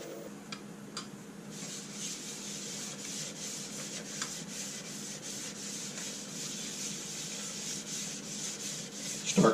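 A soft, continuous rubbing hiss as sanding sealer is applied by hand to a spalted maple bowl spinning on a lathe, steady and low, with faint ticks over the machine's hum.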